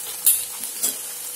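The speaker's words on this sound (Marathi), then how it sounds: "चांगला कांदा परतला की त्यातला वास निघून जातो" Onion sautéing in oil for a Marathi chavli (black-eyed pea) curry, heard as a soft, steady sizzle with two brief, louder stirring scrapes in the pan. No one speaks.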